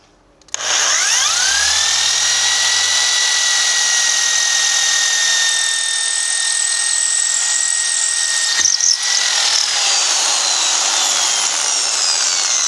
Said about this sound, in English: drilling these 3 is going to be quite enough for this piece of wood.